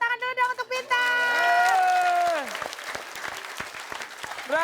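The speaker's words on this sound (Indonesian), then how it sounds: "Oke, tepuk tangan dulu dong untuk Bintang." Studio audience applause for a contestant on an Indonesian comedy game show, a dense wash of clapping that swells in after a sung or spoken phrase and carries on steadily, close and loud, with voices over the start.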